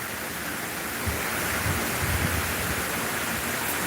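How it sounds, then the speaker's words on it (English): Rain from Hurricane Milton pouring down as a dense, steady wash of broadband noise that thickens over the few seconds, with low rumbling gusts underneath and no talk. "we had a nice little spot where we weren't getting much rain, and now all of a sudden it is picking up"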